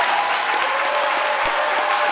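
A school awards-ceremony audience gives steady, dense applause for gold-medal and state award-winning students, a loud, continuous wash of many hands clapping with no voices over it.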